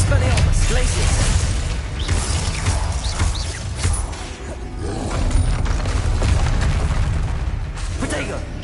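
Spell-casting blasts in Hogwarts Legacy rumble on without a break, heavy booming bursts and crackling impacts piling up loud and close, with voices shouting over the din.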